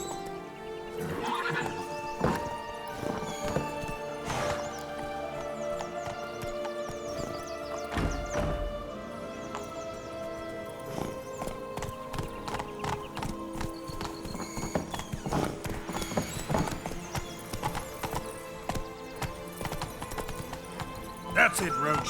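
Roach the horse from The Witcher 3 gallops with steady clip-clop hoofbeats and lets out several whinnies, set against game music and ambient sound, with voices speaking at points.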